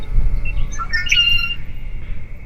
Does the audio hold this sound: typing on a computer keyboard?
no